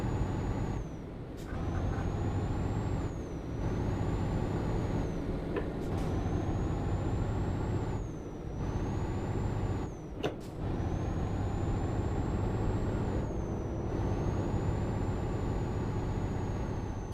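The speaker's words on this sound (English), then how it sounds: "Okay, green, full gas, and then just release the clutch" Truck engine in Euro Truck Simulator 2 pulling away from a green light, a steady low drone held throughout with several short air-brake hisses and a faint high whine riding over it.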